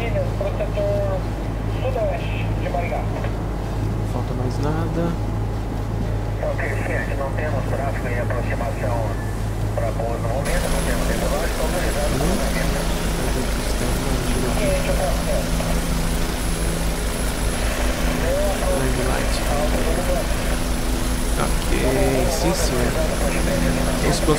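A Bell 407 helicopter's engine runs in a steady, loud drone while taxiing at the airport in Londrina, heard from inside the cabin throughout, with people talking over it.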